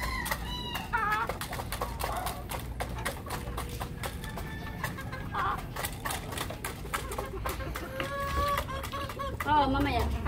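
White Kelso chickens clucking and murmuring close by in a coop, with soft calls scattered over a busy background of rustling and scratching, while a person talks throughout.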